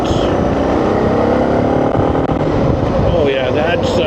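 A 2024 Suzuki DR 650 motorcycle engine runs loud and steady with throttle applied, its drone continuous throughout, with rising whine near the end and a voice speaking over it.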